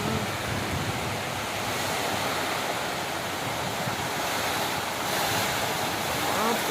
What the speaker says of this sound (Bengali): প্রচণ্ড জোরে বৃষ্টি শুরু হয়ে গেল।